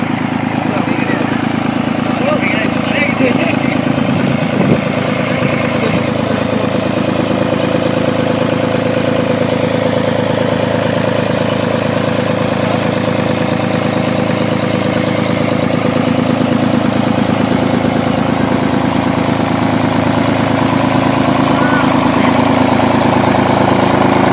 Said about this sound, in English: That engine you hear is a Lister diesel engine that's pumping out probably about 150 gallons a minute